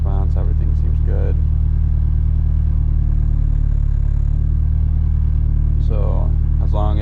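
A Nissan S13's engine, freshly fitted with a Link ECU, idles with a loud, steady low rumble throughout, close by, while someone talks over it at the start and end.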